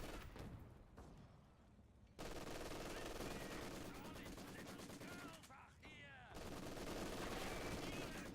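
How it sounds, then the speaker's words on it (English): Maxim and MG42 machine guns trade fire in a video game, a faint, distant, continuous rattle of rapid bursts with brief pauses, sustained throughout. "Maxim, MG42 firing at each other"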